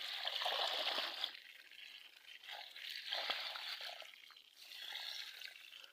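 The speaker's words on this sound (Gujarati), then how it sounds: "પાણી બહુ જાય." Water flows past in a thin, trickling stream, faint and fairly close, its babbling swelling and easing in gentle surges with no voices.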